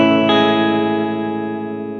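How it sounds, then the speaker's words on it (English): Electric guitar run through a Synesthesia pedal giving a crushed octave-up effect with reverb switched off: one loud, sustained distorted chord that rings and slowly fades over two seconds, with no talking. "I'm getting this sort of like crushed octave up thing from the synesthesia"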